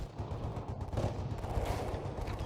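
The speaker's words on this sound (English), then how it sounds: "gunfire suddenly erupted from outside" Dramatized wartime gunfire erupting outside a house, a dense, continuous crackle of rapid shots at moderate distance, fairly faint and unbroken throughout.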